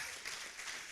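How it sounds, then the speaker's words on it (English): Brief applause from an audience at an African congress for architecture students, a dense wash of clapping lasting about a second, steady and moderately distant, with no one speaking over it. "So another round of applause for supporting,"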